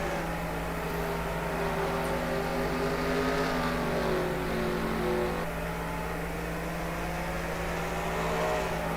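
NASCAR race cars at Sonoma, with engines droning in a sustained, layered roar that rises and falls slightly as the cars hold speed, continuous and moderately loud throughout.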